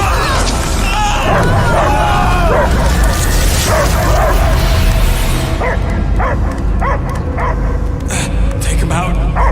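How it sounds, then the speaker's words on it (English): Dog barking, yipping and whimpering in a video game, loud and steady throughout, with a booming game soundtrack underneath and sharper repeated yelps toward the end. "I hear only barking."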